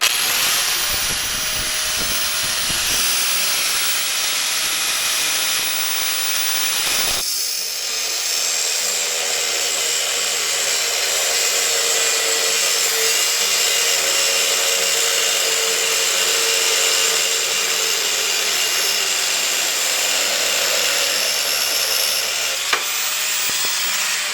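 A power tool shrieks steadily while cutting off the end of a bolt held in a vise, in a continuous loud, close whine lasting over twenty seconds, with a shift in pitch partway through.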